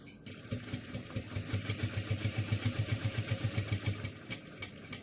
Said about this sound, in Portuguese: passo aqui 1 centímetro e vou fazer esse pesponto todinho